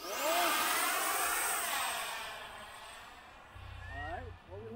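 An FMS 64mm electric ducted fan F-16 Fighting Falcon RC jet spools up with a rising, sweeping whine that swells loud and then fades as it passes into the distance, with people talking faintly nearby.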